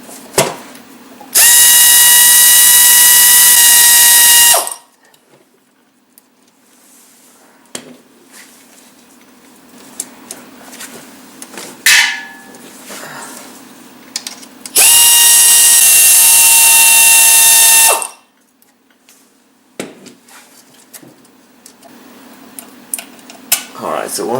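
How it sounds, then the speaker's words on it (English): Power tool bursts loosening transmission pan bolts on a MK4 VW Jetta, two loud whirring runs of about three seconds each separated by quieter shop sounds and faint clinks, with a steady hum beneath. "remove the other bolts."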